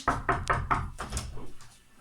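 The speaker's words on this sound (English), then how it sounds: "just go back to the knocking" Several sharp knocks on a door in a steady, even rhythm, about four clear raps followed by a couple of softer ones fading out.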